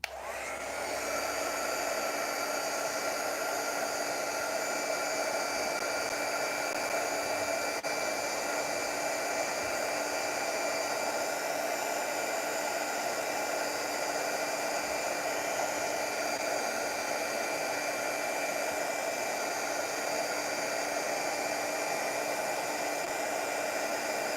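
A craft heat tool blows in one steady, loud, continuous whoosh as it heat sets embossing on a handmade Christmas card. The air runs unbroken and close for the whole stretch, with no talking.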